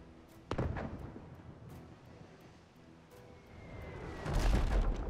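Ship cannon firing in the video game Abandon Ship: one sharp boom early on, then a heavier rumbling blast near the end over a bed of wind and surf.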